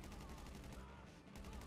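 Rapid bursts of gunfire in a GTA V shootout during a prison-break mission, dense and continuous throughout, fairly loud and crackling with no pauses.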